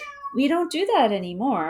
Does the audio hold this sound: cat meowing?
yes